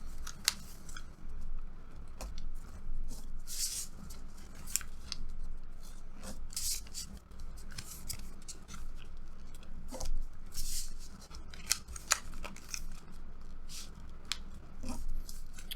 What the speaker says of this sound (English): you're going to fold the four corners into the center